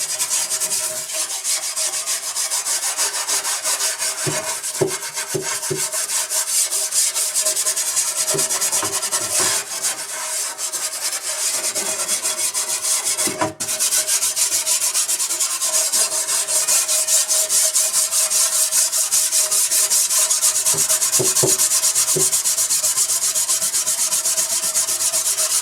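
Scrubbing grease sludge off a Hmmwv M998A1 part: a continuous close, loud, rasping brushing that keeps a steady rhythm, with occasional knocks and scrapes as the stroke changes.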